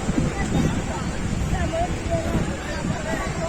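Strong sea waves at Alibaug beach churn with a constant broad rush of surf and wind buffeting against the microphone, while muffled voices talk underneath.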